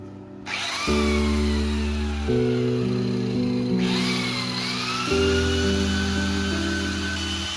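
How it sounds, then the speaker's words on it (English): A power tool cuts through a plaster of Paris (POP) ceiling during a profile light installation, giving a loud, steady whine that shifts pitch in several stages and keeps going without any talk. "you are going to watch carefully as I cut the POP, or as I cut the ceiling"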